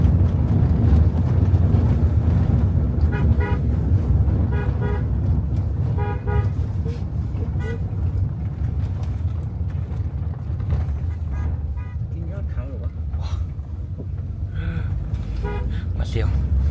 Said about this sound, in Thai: จะเห็นว่าเขากดแตรเป็นสัญญาณกันตลอด